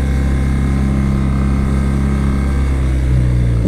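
A 2022 BMW R nineT Pure motorcycle engine idles steadily nearby, a deep even boxer rumble with a slight swell near the end and no talk over it.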